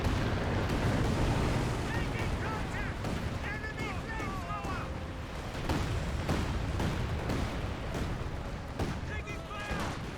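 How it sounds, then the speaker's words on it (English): A Katyusha rocket barrage in Company of Heroes 2 rumbles on as a dense, continuous roar of launches and impacts, loud throughout, with a voice talking over it. "Do now have a Katusha barrage in this region, getting some good damage."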